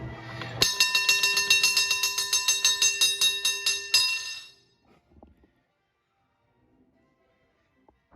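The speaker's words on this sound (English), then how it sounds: "You always gotta ring the bell" A bell at Disneyland is struck rapidly over and over for about four seconds, loud bright clangs with ringing overtones, then decays to quiet with a few faint knocks.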